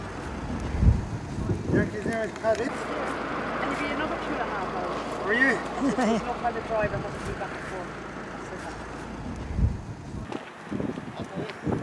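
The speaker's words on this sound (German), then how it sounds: "Ständig weht eine frische Brise." A fresh breeze blows across a roadside in Ireland lined with lakes and wind turbines, buffeting the microphone in steady gusts beneath ongoing talk throughout.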